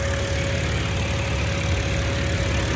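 A BMW car engine idles steadily just after starting, a continuous low rumble with a faint steady whine, close and alone with no talk.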